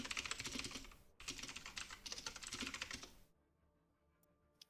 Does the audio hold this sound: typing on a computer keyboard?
yes